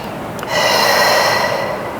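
Heavy exhaled breath during an abdominal workout, a single long, breathy rush of air close to the mic after a brief catch, steady for over a second before easing off.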